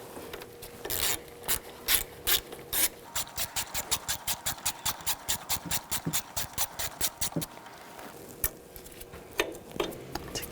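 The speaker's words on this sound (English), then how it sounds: "We're going to loosen up this nut. Use a ratchet wrench, 18mm." A ratchet wrench clicks rapidly and evenly while loosening an 18mm nut on a 2014-2018 GMC Sierra, in steady bursts of close, crisp ratcheting with brief pauses and no talk.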